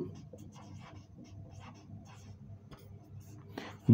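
Chalk or marker scratching out examples on a board during a physics lesson, a continuous close scraping and tapping texture with faint background voice at the end.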